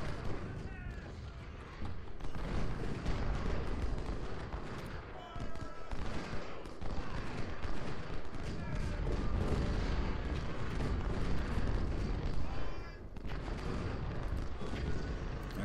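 Musket and artillery fire in Ultimate General: Civil War, Laurel Hill at Spotsylvania, sustains a thick, roaring battle din of crackling volleys and deep booms, steady and loud throughout with brief dips.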